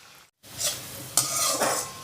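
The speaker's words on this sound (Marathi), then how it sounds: "आपण हे शंकरपाळे तेलामध्ये सोडूयात" Jaggery shankarpali biscuits for Diwali are dropped into hot oil, a short silence then swelling bursts of bubbling sizzle as pieces go in one after another, close and fairly loud, with faint utensil clinks.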